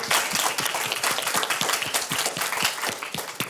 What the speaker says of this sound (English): Warm round of applause for Joe Minicozy and our speakers to our panel tonight.